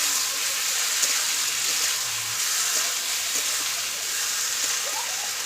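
Spice paste frying in a pan for a vegetarian pointed gourd (potol) curry gives a steady, close hiss of sizzling that runs without a break from start to end.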